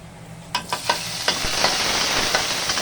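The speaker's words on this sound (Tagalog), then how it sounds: "Isosotay lang po muna natin yung bawang at saka sibuyas." Garlic and onion sauté in a little oil, opening with a few sharp clicks of a utensil against the pan before settling into a continuous close sizzle with occasional stirring taps.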